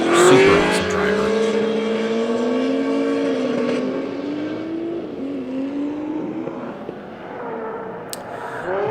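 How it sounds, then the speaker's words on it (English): A Nissan S14 drift car fitted with a big LS V8 roars through a tandem drift, its loud engine note rising and falling steadily over several seconds, with another drift car running close and a brief sharp noise near the end. "Wade has a big old LS in this S14 here. Super rowdy car"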